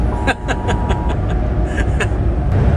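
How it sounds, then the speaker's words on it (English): Steady roar of road traffic with a truck rushing alongside, buffeting wind noise throughout and faint voices chuckling underneath. "we're getting some turbulence off of this truck next to us as well"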